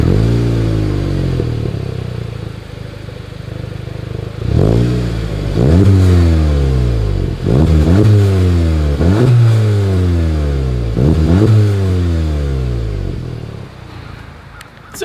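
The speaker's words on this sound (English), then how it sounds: "As always, here is that exhaust clip." A Volkswagen Golf GTI with dual exhaust revs repeatedly, each throttle blip rising and falling in a series of loud, close engine sweeps after a lower idle.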